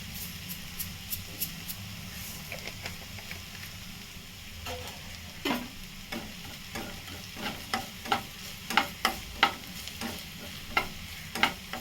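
White sesame seeds and green chili roasting in a pan, with continuous sizzling and repeated stirring scrapes that turn louder and more rhythmic toward the end, with no talking.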